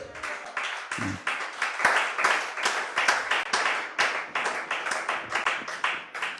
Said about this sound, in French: Si la parole te fait du bien, acclame le Seigneur.